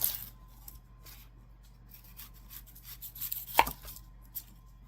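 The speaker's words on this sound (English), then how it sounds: "I'm going to start cutting up a red onion" Knife cutting the ends off a red onion on a cutting board in a home kitchen, a few soft close chops with one sharper knock near the end, quiet and without talk.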